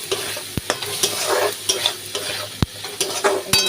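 Spiced potatoes with aloo dum masala are stirred in a frying pan, giving a steady oily sizzle broken by a few sharp scrapes and knocks of the spoon against the pan.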